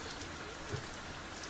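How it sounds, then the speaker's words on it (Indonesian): Heavy rain falls in an even, dense hiss, with a faint soft thump partway through. "Hujan sangat deras."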